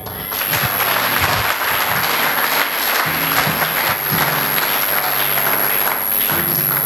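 A church congregation claps and cheers after a preacher calls for acclamation, steady dense applause filling the room continuously, loud and close, with some voices mixed in under the clapping.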